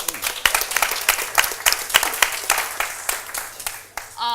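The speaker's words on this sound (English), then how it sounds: "Let's give them a hand of applause." A crowd applauds with dense, uneven clapping that swells and fades over a few seconds, with a brief voice at the end.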